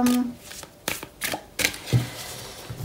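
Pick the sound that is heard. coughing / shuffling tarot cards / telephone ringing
shuffling tarot cards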